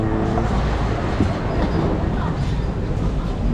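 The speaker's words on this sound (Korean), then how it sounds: "그 멜번의 그 무료 트램" Melbourne's free tram rolls loudly along its rails, a steady heavy rumble and rattle of wheels and carriage heard up close from on board, with no break in the noise.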